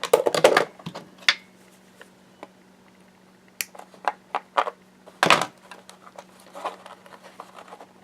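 A jewelry piece being cut apart to make matching earrings and a bracelet: sharp snips and clicks, with one loud crunching cut near the start and another midway, plus scattered small taps and a low steady hum, no talking.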